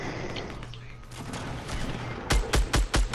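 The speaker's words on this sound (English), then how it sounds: "I just hit him with a sniper" Sharp gunshots in a Fortnite Battle Royale match, a quick series of loud close cracks near the end following a stretch of quieter ambient game noise.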